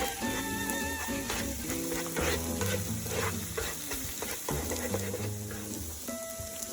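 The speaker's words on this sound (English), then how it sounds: "We'll scramble it all up here." An egg is scrambled in a frying pan beside other breakfast food, giving a dense, close sizzle with steady scraping and stirring strokes from a utensil and no talk.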